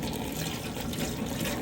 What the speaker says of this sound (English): We're just gonna fill the bottom of the pot with water.